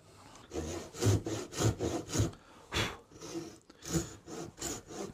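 A hand saw cutting an oak tenon held slightly high in a vise, rhythmic rasping strokes with a rattling edge, about a dozen pushes close by and fairly quiet, without talk.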